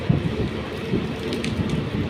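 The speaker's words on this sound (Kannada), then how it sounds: "ಏಷ್ಯಾ ಮಾಲ್ ಹತ್ರ ಬರೋಷ್ಟೊತ್ತಿಗೆ ಗಟ್ಟಿ ಮಳೆ ಬೀಳ್ತಾಯಿದೆ ಜೋರು ಮಳೆ" Heavy rain pounds steadily outside a moving train near Asia Mall, a dense unbroken wash of noise over low rumbling, with no voices.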